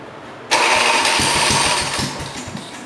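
A 1968 110 engine that sat unused for five years cranks and catches abruptly, running loud and close with a rough, pulsing idle that sags slightly toward the end.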